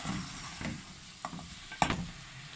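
Coriander and mint leaves being stirred and mixed in a pan, with a few scattered scraping strokes and soft rustles over a faint background hiss, fairly quiet and close.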